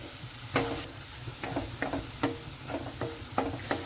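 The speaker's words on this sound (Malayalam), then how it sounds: "ഇതിലേക്ക് ഒരു ടീസ്പൂണ് വെളുത്തുള്ളിയും ഇഞ്ചിയും കൂടെയാണ് അരിഞ്ഞ് ചെറുതായിട്ട് അരിഞ്ഞെടുത്ത് നമുക്കിത് വഴറ്റിയെടുക്കാം" Finely chopped garlic and ginger sautéing in a pan for chilli chicken, a steady close sizzle broken by regular spatula scrapes and taps, roughly one every half second.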